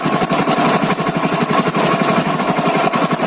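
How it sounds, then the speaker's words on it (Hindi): A Hero Splendor Plus BS6 motorcycle engine idles close by with timing chain noise, a steady fast ticking rattle over a continuous engine drone throughout. "तो इस तरह की होती है टाइमिंग चैन की साउंड, आपने शायद सुन लिया होगा ध्यान से।"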